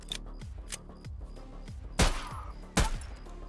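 Bursts of gunfire from the Escape From Tarkov shooter game, several sharp shots in quick succession with two loud close cracks standing out, no talk over them.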